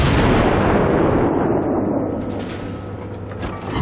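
Naval guns firing at a Kawachi battleship in a video game, a heavy booming blast that opens loud and rolls into a long fading rumble with faint crackling.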